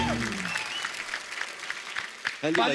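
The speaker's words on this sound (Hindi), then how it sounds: "आप सबकी जोरदार तालियों के बीच बुलाना चाहूंगा फिल्म बाला के lead actor and my bro Ayushman Khurana." A television studio audience on The Kapil Sharma Show applauds as actor Ayushmann Khurrana is welcomed onstage: dense, steady clapping fills the whole stretch, with a voice talking over it at the start and again near the end.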